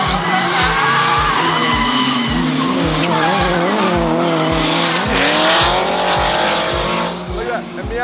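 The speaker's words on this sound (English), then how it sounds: "Night drifting in the stadium." Cars, among them a Miata and a Corvette, drift around a stadium at a night drift party, with loud engines revving hard and long tyre screeches close by and a voice underneath.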